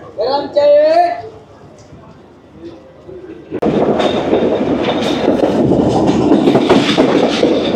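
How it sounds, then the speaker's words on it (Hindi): The Sir Syed Express on its final Karachi–Rawalpindi run pulls out of Bahawalpur station, a loud steady rumble and rattle of the moving train taking over after someone talks over quieter platform noise. "2 मिनट स्टॉप के बाद भावलपुर से रवाना हो गई हमारी ट्रेन।"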